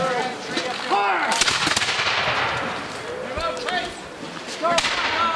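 Muskets fire in ragged volleys at a Revolutionary War reenactment for Patriots' Day, several loud cracks and booms spread across the clip under shouted commands and crowd voices outdoors.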